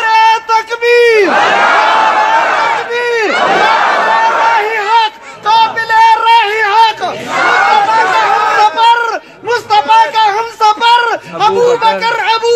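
A large gathering at a religious sermon in Badwan chants Allahu Akbar in reply to the Takbeer call, loud massed voices in repeated surges with brief gaps between the shouts.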